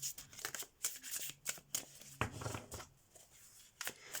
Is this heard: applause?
no